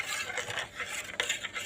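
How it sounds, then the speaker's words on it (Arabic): A spoon stirs powdered Nido milk into a cup of warm, previously boiled water, giving a steady soft scraping swirl with small clinks against the cup, close and fairly quiet, with no voices. "وهنقلبها بالمعلقه"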